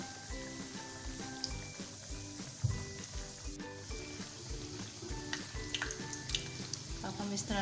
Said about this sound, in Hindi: तो चलिए अब मैं आपको कुछ नगेट्स फ्राई करके दिखाती हूँ।